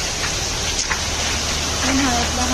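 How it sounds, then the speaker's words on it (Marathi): Heavy summer rain pours down steadily, making a dense, even hiss close by, with a faint voice briefly heard toward the end. "बघा किती जोराचा पाऊस चाललाय"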